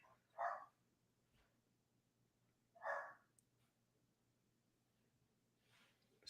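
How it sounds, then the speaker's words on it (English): A small dog barks twice in short bursts several seconds apart, heard at moderate distance against a low steady hum, with a faint further sound at the very end. "He's still barking. You hear that?"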